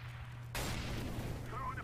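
A sudden loud burst like a Counter-Strike: Global Offensive flashbang grenade going off, then a short ringing decay, with a faint low hum underneath.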